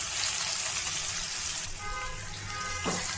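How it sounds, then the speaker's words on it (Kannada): Chopped onions and cumin seeds fry in hot oil, a close, steady sizzling hiss that drops slightly partway through with faint clinks. "ಎಣ್ಣೆ ಬಿಸಿ ಆದಮೇಲೆ ಅರ್ಧ ಟೇಬಲ್ ಸ್ಪೂನ್ ಜೀರಿಗೆ ಹಾಕ್ಕೊಂಡು ನಾನು 2 ಮೀಡಿಯಮ್ ಸೈಜ್ ಈರುಳ್ಳಿನ ಕಟ್ ಮಾಡಿಕೊಂಡು ಈ ರೀತಿ ಹಾಕ್ಕೊಳ್ತಾ ಇದ್ದೀನಿ"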